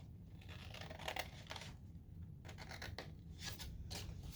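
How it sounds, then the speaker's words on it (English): Scissors snipping through folded cardstock paper along a score line while making a gift bag, a series of close, soft crisp cuts and rustles, fairly faint and without talk. "So we're going to start from this fold line here and cut up to this other fold line."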